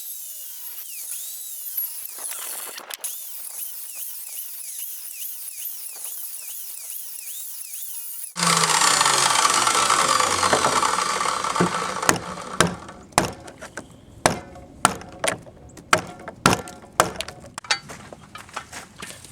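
Power saw cutting notches in a wooden pergola board: a few seconds of loud, sustained cutting roar, then a series of short, sharp saw bursts at a steady, repeating pace.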